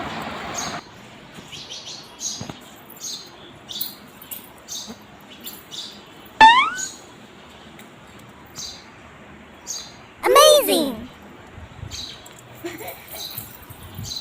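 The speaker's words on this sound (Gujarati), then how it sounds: "ચકલી એના બચ્ચાને ખવડાવે છે" A sparrow feeding its chick gives a few short, high chirps, one near the middle and a louder burst later, over a steady low background with faint voices nearby.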